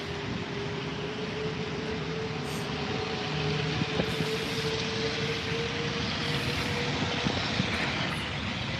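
A large aircraft powers up at LAX airport with a steady, broad engine roar close by, sustained throughout and slowly building, with no talk.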